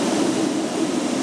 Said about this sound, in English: So this is we use about 500 PSI of fresh water in this arch on the mirrors as well